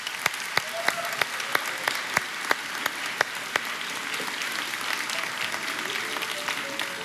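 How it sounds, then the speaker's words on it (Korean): Church congregation applauding the music ministry: a long run of sharp, evenly spaced claps rings out across the room, moderately loud and steady, with faint background voices beneath. "우리 아름다운 찬양을 드리는 음악부에 감사와 사랑의 박수를 하겠습니다."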